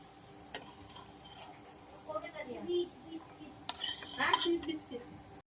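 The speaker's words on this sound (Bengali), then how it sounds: "এক এক করে আলুটা তুলে নেব।" A metal utensil clinks and scrapes against a pan as fried potatoes are lifted out one by one. The sounds are sparse and quiet, with a couple of sharp taps and a louder clatter near the end.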